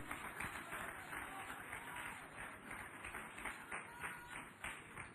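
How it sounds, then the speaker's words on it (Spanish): Church congregation clapping together in praise, a busy patter of many hands with rhythmic surges, heard moderately close in a reverberant hall with some voices mixed in. "Denle un aplauso a Cristo"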